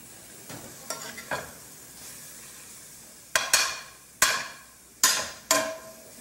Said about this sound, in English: let me stir that dried parsley down into this thing that we got here